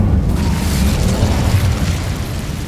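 An Incendio fire spell cast in Hogwarts Legacy, a loud whooshing burst of flame with a deep boom that stays strong before easing off slightly.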